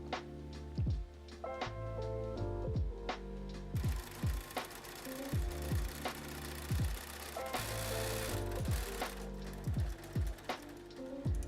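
A sewing machine stitches a quilt strip set seam for a jelly roll quilt, running in short repeated bursts of rapid stitching with brief pauses between them, heard close over a steady background.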